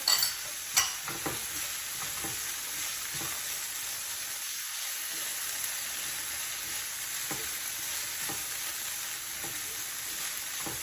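Sautéed vegetables fry in a pan with chili-ginger paste and green chilies added, a steady close sizzle broken by a few scraping stirs and light clinks, no voices.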